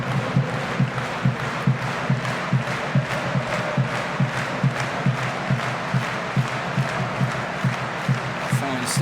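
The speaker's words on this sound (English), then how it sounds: "Standing up to applause." Football stadium crowd during a DFB-Pokal cup match between Dynamo Dresden and Hamburger SV, a broad roar with rhythmic clapping in a steady beat, plus scattered shouts, continuous and fairly distant.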